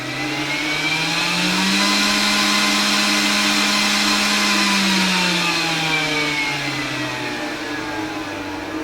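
A steady 12-volt fan whir on a speed controller, a tonal hum rising in pitch, holding, then easing back down as its speed changes, loud and continuous with no talking.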